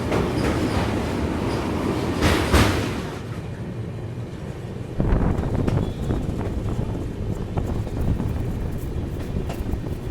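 A passenger train, the Dhanbad–Jammu Garib Rath special, rumbles along with steady rolling noise and clattering wheels, a loud burst partway through, then continued rhythmic clacking, with no voices.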